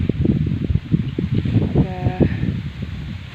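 Gusty wind buffets the microphone with low rumbling bursts, steady throughout, while a faint voice is heard under it.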